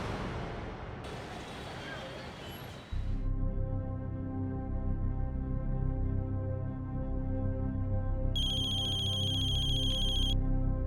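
A steady electronic ringing tone with harmonic layers, preceded by a brief burst of noise, and a higher repeating beep joining near the end.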